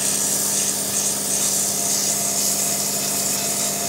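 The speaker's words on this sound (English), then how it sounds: "I'm just using the 120 at the moment, just to give it a quick rub down, get everything all level." A jarrah wood barrel cup is smoothed with 120 grit sandpaper, giving a steady, close, dense rasping rub that carries on without pause and without any talking.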